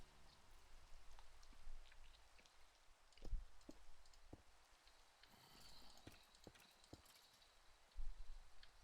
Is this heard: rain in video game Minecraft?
yes